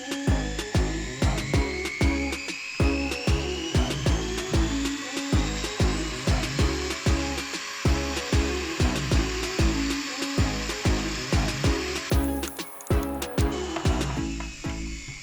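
A Foredom SR pendant motor runs at a set speed, a whining high-pitched drone with steady rhythmic thumping pulses, close and continuous, with a brief rise in pitch near the end.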